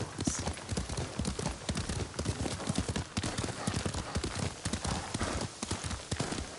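Horse hooves clip-clop at a steady riding gait in the samurai game Ghost of Tsushima, close and continuous throughout, with a faint trace of a voice in the background.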